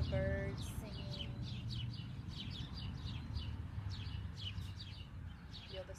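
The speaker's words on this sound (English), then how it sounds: "Hear all the birds singing." Several birds chirp and tweet in quick repeated bursts at moderate distance over a soft outdoor background.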